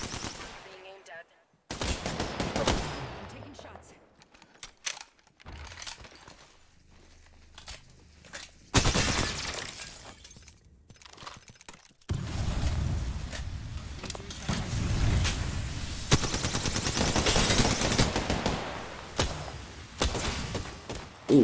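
Gunfire in the shooter video game Apex Legends, played on PC with a controller, comes in rapid bursts and single shots, some near and loud, others quieter, with short pauses between volleys.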